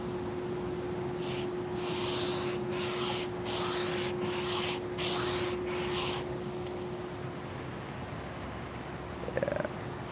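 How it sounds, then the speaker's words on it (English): Random orbital sander working a soft pine beam for a console table, sounding as a steady close whir with a series of rhythmic louder surges of abrasive rasping, then a lone machine hum continuing after sanding stops. "I know that I can get up to that spot with the random orbital sander to clear away"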